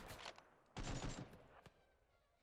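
Gunshots in RimWorld, a top-down colony sim: a dense burst of gunfire crackles, then a longer volley follows, with a few isolated reports trailing off and a sharp final crack.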